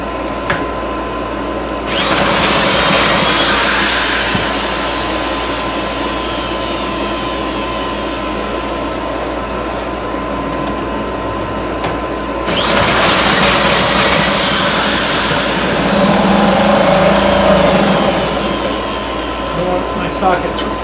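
A 1971 Johnson 2 hp outboard motor runs with a steady buzzing drone, rising in two louder surges before settling back, heard up close with no talk over it.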